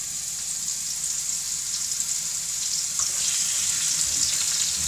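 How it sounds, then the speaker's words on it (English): Vegetables frying in a pan give off a steady, close hiss of sizzling that holds an even loudness throughout, with no speech. "While I fry myself some vegetables"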